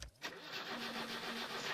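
Starter cranking of a car engine in the game My Summer Car after a carburetor swap, a steady repetitive churning that goes on without catching, close and fairly loud.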